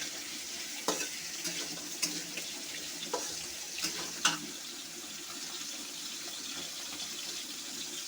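Pieces of pumpkin, papaya and potato fry with ginger and garlic in a pan, a soft, faint sizzle underneath, punctuated by a few sharp scrapes and clicks as a spatula stirs.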